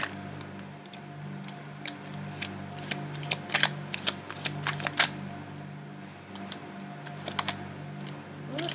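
Tarot cards being shuffled by hand, a quiet stream of soft irregular card taps and riffling clicks over a steady low hum, with no speech.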